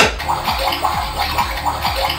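A Hello Kitty toy stove burner gives off a quick, repeating bubbling and gurgling, like water simmering, in a close, steady rhythm of pulses with no talk over it.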